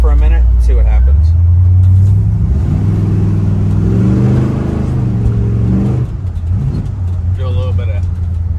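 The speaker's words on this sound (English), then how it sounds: "just let it idle in the parking lot for a minute and see what happens" A car engine idles in a parking lot with a steady, loud low rumble that continues throughout, while a person talks over it for much of the time.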